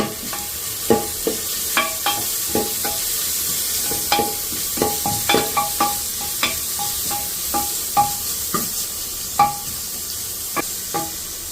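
Curry leaves sauté in a hot pan with a steady sizzle, punctuated by frequent sharp pops and crackles as they fry.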